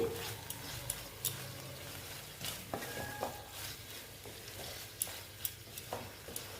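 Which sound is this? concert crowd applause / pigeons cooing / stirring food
stirring food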